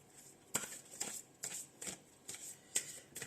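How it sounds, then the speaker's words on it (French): Soft, close riffling and slapping of Ho'oponopono oracle cards being shuffled and drawn, in about six quick bursts at a steady rhythm. "Pas facile à tirer mes cartes de l'Ho'oponopono."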